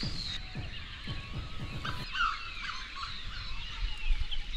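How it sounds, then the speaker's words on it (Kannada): In a village near Chikkamagaluru in the Coffeenadu hills, morning birds and fowl call: several close, sharp clucking bursts first, then thinner chirps and birdsong over a soft background. "ಬೆಳಗ್ಗೆ ಬೆಳಗ್ಗೆ ಹಕ್ಕಿಗಳ ಸದ್ದು"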